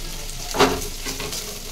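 Mashed boiled potatoes stirred into hot spiced oil in a pan, giving a steady low sizzle with one brief louder scrape of mixing near the middle and softer stirring after.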